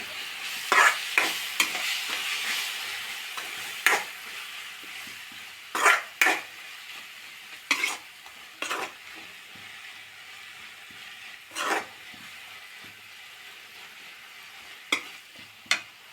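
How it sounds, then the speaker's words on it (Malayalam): A spoon stirs a yogurt and spinach curry in a pan, with several distinct scraping strokes and clinks over a soft background sizzle. "നന്നായി മിക്സാക്കി കൊടുക്കാം"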